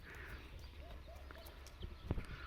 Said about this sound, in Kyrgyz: Ушул ат экен туугандар